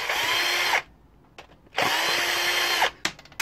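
A power drill spins out screws from the case of a vintage 1986 PC, two long loud whirring bursts close by, separated by a pause with faint clicks and handling noise.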